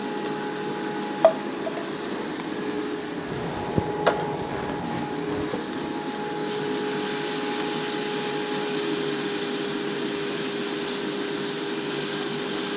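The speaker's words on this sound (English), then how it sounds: "Let this saute for about 1 more minute." Garlic sautés in a pan at home, giving a steady, soft sizzle and hiss broken by a few faint clicks of a utensil.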